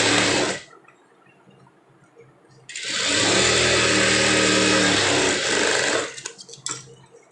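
A sewing machine stitches a lining blouse in two bursts: a short whir at the start, a quiet pause, then a longer steady mechanical run of about three seconds that stops with a few small clicks.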